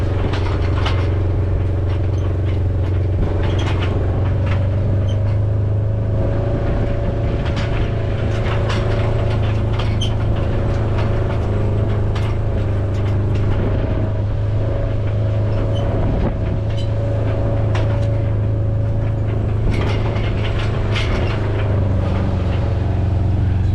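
A round baler on a farm rolls out a hay bale, its loud, steady machinery drone and low engine hum running unbroken, with faint rattling and clanks on top.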